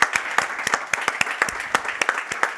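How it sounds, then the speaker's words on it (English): A small conference audience at GRIDTech 2024, a gas-grid industry event, claps at the close: sharp, distinct handclaps from a modest crowd, irregular and fairly sparse, crisp and close. "I think that deserves some applause."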